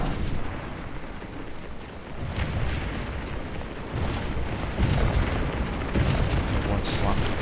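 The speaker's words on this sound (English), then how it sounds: "Try and position my camera so you can see the effects of artillery fire." Artillery fire in the Scourge of War battle game at McPherson's Ridge makes a continuous low rumble of distant booms and bursts, steady and dense, with a voice talking faintly underneath.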